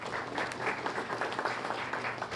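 An audience at a Student of the Month school ceremony gives a warm round of applause, a steady, full crowd of clapping heard from a short distance and sustained throughout.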